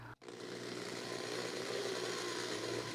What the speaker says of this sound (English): I am drilling out holes that are 1/64th of an inch larger than the 1/8 inch armature wire